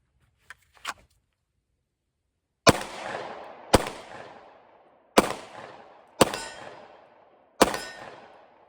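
Five sharp gunshots from a Sig P365XL pistol aimed at a target, spaced about a second apart, each ringing out with a short echo. A couple of faint clicks come first, and no one talks.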